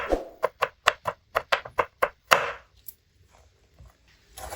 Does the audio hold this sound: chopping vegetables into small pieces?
yes